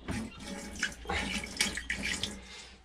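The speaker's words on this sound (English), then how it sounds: "I got a foot pump here." Water gushes in short pulses from a foot pump on a boat, with a splashing, faucet-like flow rising and falling several times, close and fairly quiet.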